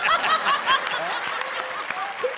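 Studio audience claps through a comedy show set, a brief burst of moderate applause with scattered chuckles mixed in, fairly close and steady throughout.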